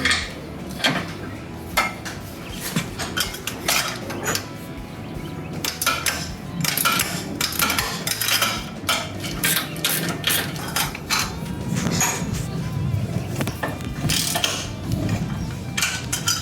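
A socket wrench removes 14 mm nuts holding a vehicle's front grille, giving close, repeated metallic ratcheting clicks and clanks that run steadily throughout.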